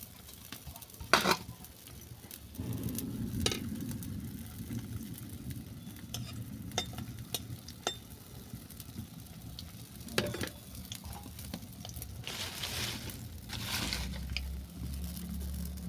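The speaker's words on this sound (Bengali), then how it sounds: "এরপর কয়েনগুলোকে আমি ভেজে নেব।" Bread cut into coin shapes fries in hot oil with a steady, close sizzle and occasional stirring and scraping sounds, no talking.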